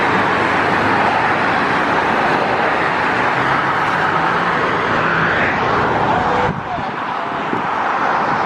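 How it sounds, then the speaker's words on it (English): Holiday road traffic near Albany, NY: a dense, steady roar of many vehicles heard close up, continuous throughout with a slight drop near the end. "this is holiday traffic"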